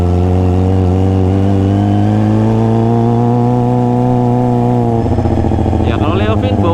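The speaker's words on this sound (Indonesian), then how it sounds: "Ya kalau Leovin bawaannya kalau kita narik gas itu pengen nambah terus karena suaranya nggak begitu berisik ya" A Kawasaki Ninja ZX25R fitted with a Leovince LV10 exhaust revs close by, holding a steady, strongly harmonic engine tone that shifts and turns rougher toward the end.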